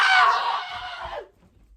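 A man letting out a single loud, strained scream that holds for about a second before dropping off sharply into near silence.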